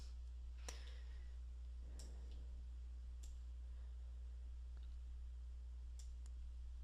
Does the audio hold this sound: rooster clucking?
no